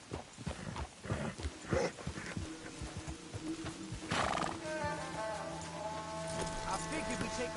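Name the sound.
horses neighing and hooves, Red Dead Redemption 2 video game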